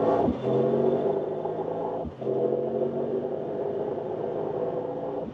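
A Mercedes-AMG GT 63 Pro engine heard from inside, its tone rising through the gears with a brief dip at a shift, steady and fairly loud, no talking.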